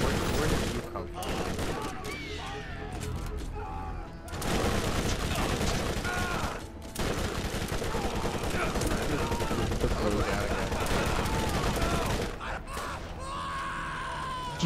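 Rapid pistol and automatic gunfire in the video game Borderlands, dense bursts of shots running nearly continuously with game effects and voices talking over them.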